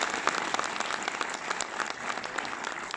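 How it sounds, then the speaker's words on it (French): An audience applauds throughout at a film screening, steady, dense clapping from many hands heard from a distance and fairly faint, with no talk over it. "On peut les applaudir"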